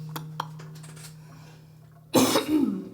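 A single loud, harsh cough bursts out near the microphone after a quiet room hum, during a songwriter session, followed by a brief rough throat sound.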